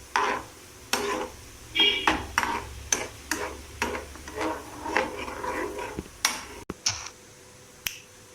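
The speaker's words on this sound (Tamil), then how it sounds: "இப்போ நம்ம அந்த பைனாப்பிளை போட்டு நல்லா மிக்ஸ் பண்ணணும்." Repeated scraping and tapping of a utensil against a pan while mixing pineapple, in an uneven rhythm of short strokes, close by with no voices.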